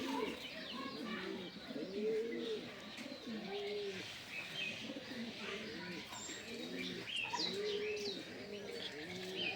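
Racing pigeons coo in a loft, repeated rounded coos close by with scattered chirps and faint wing flutters, while people talk quietly in the background.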